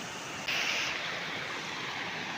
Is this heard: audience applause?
no